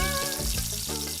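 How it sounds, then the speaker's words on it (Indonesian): Pieces of fried chicken dropped into a deep pool of hot oil at an Indonesian food stall, giving a steady, close, loud sizzling hiss with bubbling underneath, no voices. "langsung kita goreng aja ayamnya di dalam lautan minyak panas"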